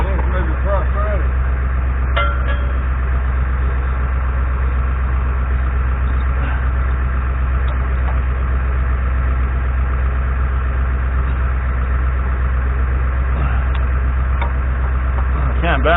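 A Champion D562B road grader's engine runs with a loud, constant low rumble and throb throughout, with someone talking faintly over the machine noise.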